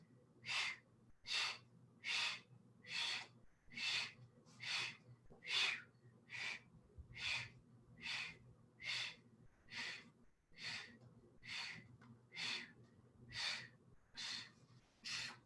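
Deep, audible breaths during a mat Pilates exercise, about seventeen evenly spaced airy breath sounds in a steady rhythm, close and fairly soft, with no talking.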